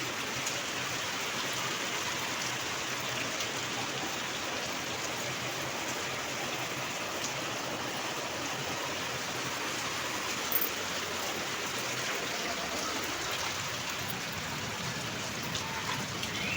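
Steady heavy rain pours onto a house roof, a dense continuous hiss of water falling and running across the surface, moderately close and with no voices.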